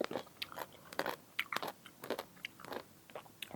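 Crunchy mango being bitten and chewed close up, with repeated crisp crunches in an uneven rhythm over about three and a half seconds and no talking.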